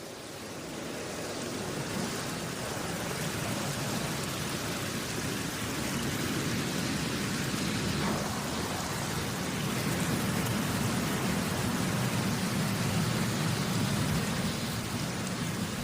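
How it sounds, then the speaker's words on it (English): Steady rain pours down at the start of the rainy season in Ruaha lion country, a dense continuous hiss that holds at an even, fairly loud level throughout with no voices. "The rainy season is here."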